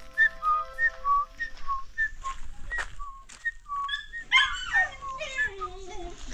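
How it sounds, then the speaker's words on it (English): A dog whimpering and yipping at close range in high, wavering cries, broken up by repeated short whistle-like squeals, with a longer rising and falling whine near the end. "And also, yeah, our dog."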